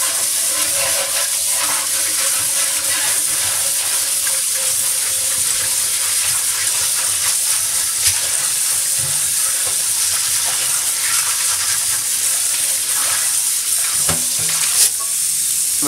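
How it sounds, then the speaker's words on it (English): Water sloshes and hisses in a cast iron pan as a chainmail scrubber works it, giving a continuous wet, gritty scrubbing with occasional sharper scrapes and no speech. "with a chainmail scrubber, all you gotta do is put some water in there"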